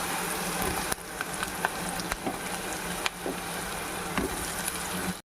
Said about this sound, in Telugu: మనం బంగాళదుంప ముక్కలు వేసేసుకుందాం.